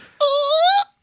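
A person imitates a whistle with a single high, screaming tone that holds for over half a second and rises slightly in pitch before cutting off, close and loud.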